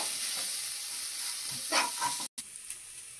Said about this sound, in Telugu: అల్లం వెల్లిగడ్డ వేసుకొని కూడా మొత్తం ఫ్రై చేసుకోవాలి.